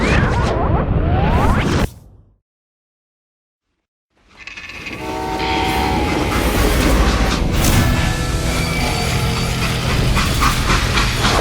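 A train in the western video game Call of Juarez: Gunslinger starts with a loud roar, cuts to a moment of silence, then returns as heavy rumbling and clanking with sustained horn-like tones.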